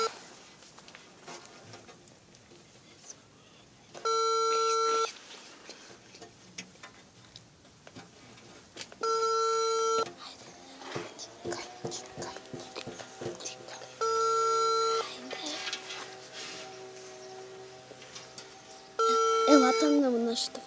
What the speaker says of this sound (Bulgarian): звъни.